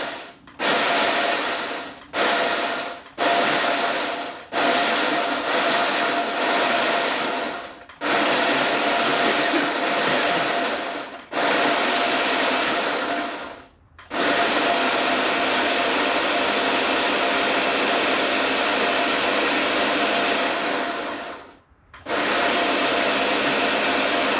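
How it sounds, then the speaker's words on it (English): A blender grinds an artisanal spice blend, loud and close, starting with a few short pulses before settling into long continuous whirring runs, with brief stops between them and no talk. "you want to turn your blender on,"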